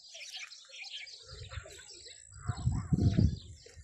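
Birds chirp and call across a lake where flamingos and swans gather. The bright calls overlap throughout, and a low rumbling swell builds underneath toward the end.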